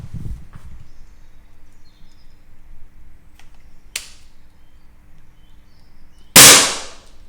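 A break-barrel spring air rifle, the Accumax S1, fires once with a sharp, loud snap near the end, preceded by quieter mechanical clicks and handling noises in an otherwise quiet setting.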